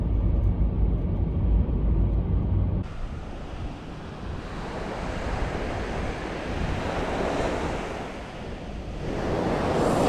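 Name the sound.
surf waves on a Hokkaido beach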